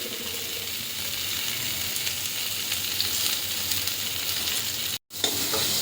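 Sliced onions sizzle in hot oil in a pan while being stirred, a continuous close frying crackle with faint scraping, briefly cutting out near the end.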